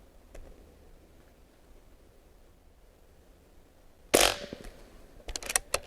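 A Barra .177 air rifle fires pellets at a target at a 10-yard range: one sharp, loud crack after a quiet stretch, followed by a few fainter clicks and handling noises, with no talking.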